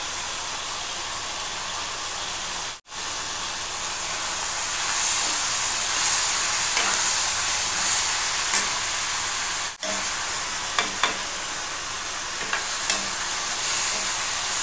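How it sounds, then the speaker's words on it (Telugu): Ingredients for chicken biryani frying in a pan, giving a steady, loud sizzle and hiss that runs throughout, with a couple of brief breaks and a few light clinks near the end. "మనం హాఫే ఫ్రై చేసుకున్నాము"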